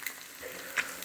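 Bacon and eggs frying in a pan on a home breakfast stove, giving a short, fairly faint sizzle with a brief louder crackle near the end.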